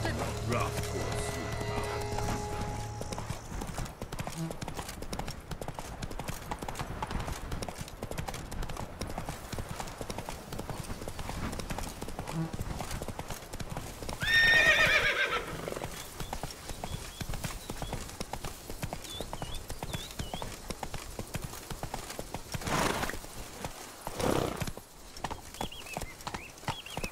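Roach the horse galloping in The Witcher 3: a continuous, even drumming of hooves close by, with a brief whinny-like burst midway and a couple of louder thumps near the end, under occasional talk.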